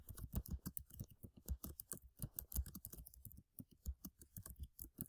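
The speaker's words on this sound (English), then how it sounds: "So I'm going to type that in." Fast, irregular clicks of typing on a computer keyboard, heard up close and faint with no talking, with a brief pause partway through.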